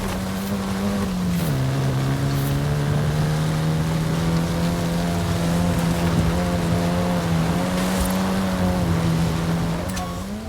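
Engine of a level 1 Nissan car in a racing video game, a steady droning tone with slight pitch shifts as it drives, continuous and fairly loud for about ten seconds, with no talk over it.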